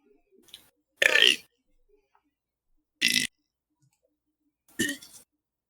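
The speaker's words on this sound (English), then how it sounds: "I can burp the ABC" Three loud, separate burps from a person burping the alphabet, each a short rough belch with quiet pauses between them.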